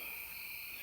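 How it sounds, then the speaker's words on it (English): Crickets chirp at night in a steady, continuous high trill, close and fairly loud, with no voices over it. "Them crickets keep me awake, they do."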